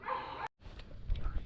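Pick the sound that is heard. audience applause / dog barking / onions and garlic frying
dog barking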